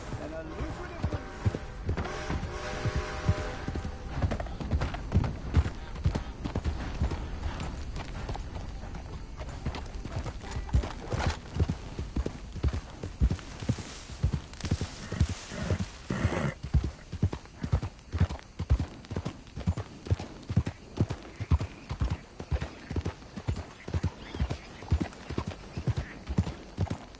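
Steady rhythmic clip-clop of horse hooves walking in a PS4 video game, with a brief whinny early on and game voices talking over the hoofbeats throughout.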